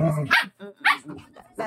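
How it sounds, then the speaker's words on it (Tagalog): A dog barks sharply a few times in quick bursts, close by, mixed with a person's voice. "Yung aso kong pasaway."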